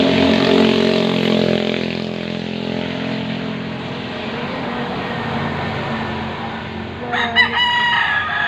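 Roosters crowing, with one clear crow rising near the end over steady background noise, including a low droning hum that may be a distant propeller aircraft.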